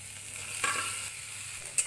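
Fried potato and banana are stir-fried with cooked-down spices, giving a soft, steady sizzle with two short scraping strokes of a spatula, close and fairly quiet, with no voices.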